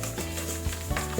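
An electric mixer steadily hums and whirs while blending an egg into creamed butter and sugar for a plum torte batter, close and continuous, with faint scraping bumps and no talking.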